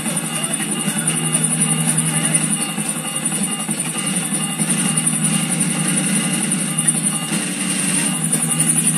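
Aircraft engine in the GTA 4 video game as a plane comes in to land, a steady droning hum with a constant high whine, even and loud throughout with no talking.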